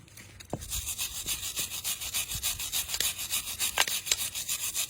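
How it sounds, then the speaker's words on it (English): A wire brush scrubs the mounting surfaces of a brake caliper bracket on a car, with close, steady, rapid back-and-forth scraping strokes in a continuous rhythm and no voices. "we're going to clean all of these interfaces just with a wire brush"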